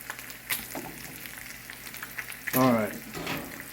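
Cajun-seasoned pork steaks sizzle in a pan with a steady, close frying hiss throughout, broken by a couple of brief louder flare-ups and a short burst of sharper crackle near the end.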